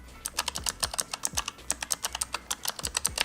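Rapid typing on a Razer keyboard with Clicky Optical Switches, a steady stream of sharp, crisp clicks close up with no talking.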